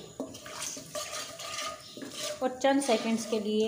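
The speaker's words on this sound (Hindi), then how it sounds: "चम्मच चलाते हुए इसको भी फ्राई कर लेंगे इलायची को" Spoon stirring green cardamom and cumin as they fry in a pot, a steady scraping and clinking of metal with soft sizzling underneath, while someone talks over it.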